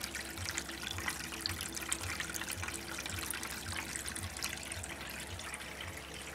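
Water from a Topsflo solar pump flows back into a tank, a continuous broadband splashing and trickling with a faint low periodic pulse underneath.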